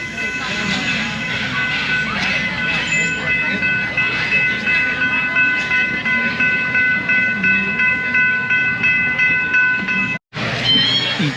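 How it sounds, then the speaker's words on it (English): An amusement park train at Busch Gardens Williamsburg's Christmas Town rumbles past with a steady rattling clatter and faint whistle-like tones, close and continuous for several seconds, with people talking nearby. "There goes the train."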